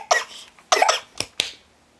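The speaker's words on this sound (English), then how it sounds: "I just choked on my own spit." A woman coughs after choking on her own saliva, a short burst of close coughs followed by two sharper single coughs, then quiet.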